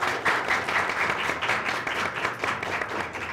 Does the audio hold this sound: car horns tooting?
no